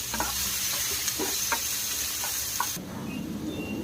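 Chopped onion sautéing with turmeric in a pan for a ridge gourd thecha, a steady close sizzle with a few scraping stirs before the frying noise drops away near the end.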